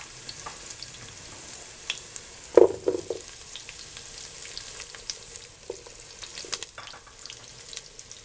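Steady crackling sizzle of onion frying in a hot pan, with a few clinks and stirring noises partway through.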